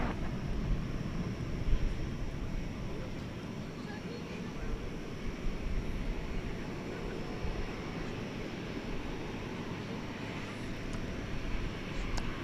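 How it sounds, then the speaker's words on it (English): A Boeing 777 from Venice taxis at DFW airport at night, a steady, moderately distant engine rumble and whine that holds evenly throughout. "The 777 from Venice is now taxiing over to Terminal D."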